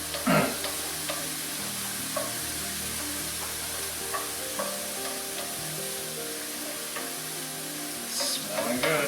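Garlic and mushrooms fry in a pan with a soft, steady sizzle close by, broken by occasional scraping stirs of a utensil, with no voices.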